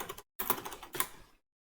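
Quick clattering keystrokes on a computer keyboard in two short bursts separated by a brief pause, close and fairly quiet, with no voices.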